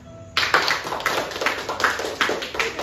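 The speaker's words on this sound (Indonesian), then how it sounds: "Tepuk tangan" Classroom group clapping on a teacher's cue, a burst of rhythmic hand claps starting abruptly and continuing steadily for a few seconds, fairly close and moderately loud.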